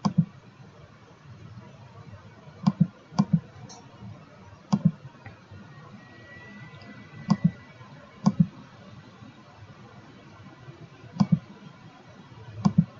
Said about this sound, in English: So I just click through until you get the correct one.